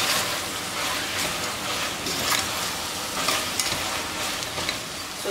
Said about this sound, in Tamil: இப்போ கொஞ்சம் வதங்கிடுச்சு காயெல்லாம்,